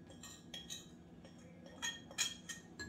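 Ingredients for a lobster dish are mixed in a bowl, including vanilla, almond essence, cinnamon and nutmeg. Faint, close clinks and taps of a utensil against the bowl come in small irregular clusters.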